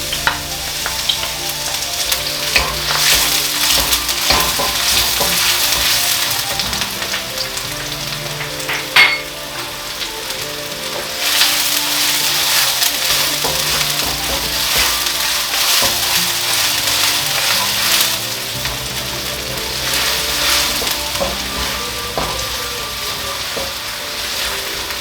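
Garlic and shallots sizzling in hot oil in a wok for a chicken noodle stir-fry, a loud continuous crackling hiss that swells and eases with stirring and occasional clinks, no talking.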